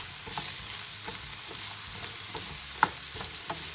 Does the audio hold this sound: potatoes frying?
yes